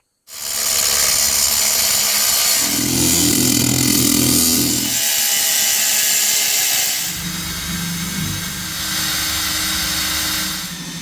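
A power drill bores a hole for a brake rod in a vehicle build, a loud, close whine that runs steadily for several seconds, drops briefly, then resumes and changes pitch as the bit cuts.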